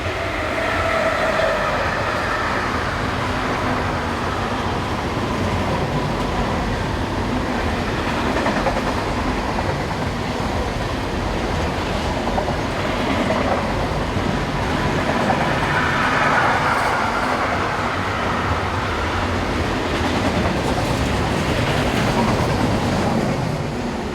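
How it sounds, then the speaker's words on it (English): A freight train hauled by locomotive 193836 rolls along the German main line between Northeim and Hannover, bound from Kornwestheim to Hamburg. It passes close and loud with a steady, continuous rumble and rail noise, and no voices. "193836 heads north with train 69288 from Kornwestheim near Stuttgart to Hamburg"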